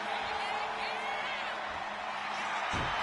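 A wrestling video game arena crowd cheers and roars in a steady, dense wash of noise, with a commentator talking over it.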